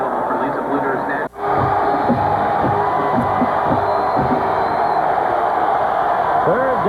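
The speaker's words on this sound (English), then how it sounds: "deafening noise from the crowd" Loud stadium roar from the crowd at a 2001 Michigan at Iowa college football game, a dense continuous wall of cheering and whoops close and overwhelming, with a broadcaster's voice running over it and a brief dropout early on.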